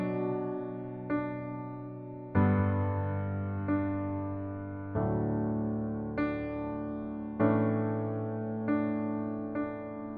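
Piano playing the verse of a song, slow sustained chords struck one at a time and left to ring and decay, soft and solo.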